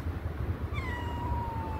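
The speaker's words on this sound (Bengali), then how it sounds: "এই দেখ এটা বিড়াল আছে, বিড়ালের আওয়াজে সবাই" A cat at a village water park in Jeddah, Saudi Arabia, lets out one short, fairly faint meow that trails off, heard over a low background murmur.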